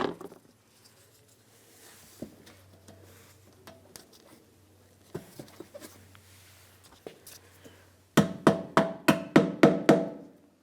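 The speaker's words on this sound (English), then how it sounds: "you can also give it a couple taps with your screwdriver" A screwdriver tapping a parking assist sensor into a 2009–2019 Ford Flex bumper, scattered faint knocks and handling noises, then a sharp run of about seven quick, loud taps close by near the end.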